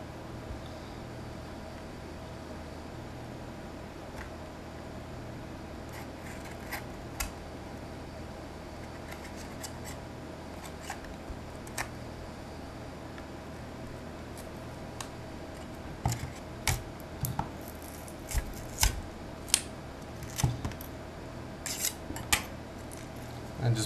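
A blade cuts along the plastic case of a Seagate FreeAgent Go 2.5-inch external hard drive, producing faint scraping and small clicks and ticks that grow sharper and more frequent toward the end, close but quiet with no talk.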